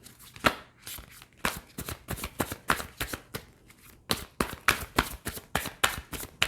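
Tarot cards shuffled by hand in a quick, close riffling rhythm, a steady run of sharp papery bursts with a short pause near the middle, no voices.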